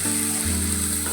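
A tomato, ginger and garlic paste for egg curry spits and sizzles in a hot pan, a dense, continuous frying hiss heard close and steady, with a low hum underneath.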